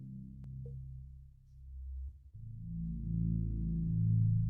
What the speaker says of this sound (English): It's playing 2 notes. It's playing a C and an A.